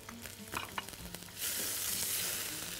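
Butter and cherry tomatoes go into the pan with a few knocks and clatters, then a sudden broad hiss of frying rises and holds steady, close by.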